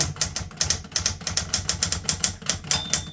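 Fast typing on a 1960s Smith Corona Galaxie II manual typewriter, a rapid, even stream of sharp mechanical key strikes close by, with a bell-like ring near the end and no talking.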